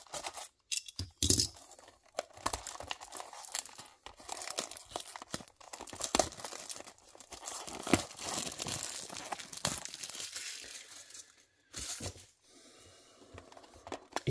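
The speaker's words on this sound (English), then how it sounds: "Yes, let's take off the plastic." Plastic wrapping is crinkled and torn off a diecast model car, the Macau GP 2022 safety car, giving close, busy crackling and rustling with brief pauses and no talking.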